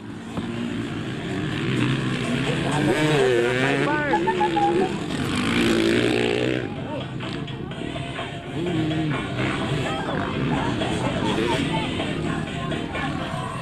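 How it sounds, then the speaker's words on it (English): Motocross bikes, including an RM 450 and a Kawasaki, race around a dirt track at a Bermuda Boxing Day event. Engines rev and whine as they pass, rising and falling under steady crowd noise and a commentator's talk. "Listen as these bikes just shake down the track, all that power."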